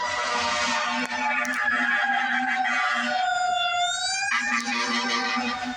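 A fire engine's wailing siren sweeps up and down in pitch, loud and close, over a steady low engine rumble.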